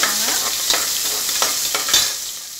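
Ten small onions sizzle in a pan while being sautéed, a steady frying hiss broken by several sharp scrapes and stirs of a utensil, close and fairly loud.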